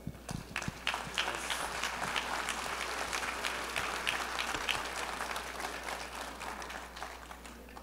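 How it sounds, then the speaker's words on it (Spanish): Applause from a church lay assembly welcomes a newly ordained priest, steady, moderately distant clapping over a low electrical hum, with sharp individual claps standing out early on. "Recibámoslo con un aplauso"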